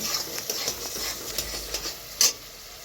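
Spiced potato chunks being stirred in a pan for Bengali potol posto, with scattered clinks and scrapes of a spoon against metal over a soft, steady sizzle of frying.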